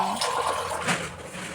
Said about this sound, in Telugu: 1/4 గ్లాస్ వాటర్ వేస్తున్నాను